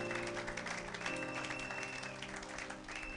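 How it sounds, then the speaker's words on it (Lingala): A church congregation applauds in steady, dense clapping, fairly faint and continuous throughout, with no break. "Acclamons pour la gloire de notre Dieu, de notre Seigneur."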